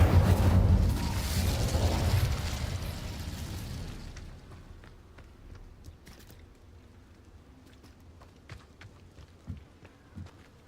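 Incendio fire spell cast in Hogwarts Legacy: a loud, close burst of roaring flame and rumble for the first few seconds that fades into faint crackles and scattered small pops.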